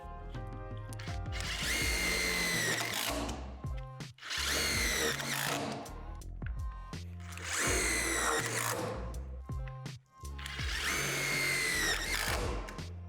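A power drill drives self-tapping screws while a portable basketball system is assembled, in four close, loud whirring bursts with brief pauses between them and no talking.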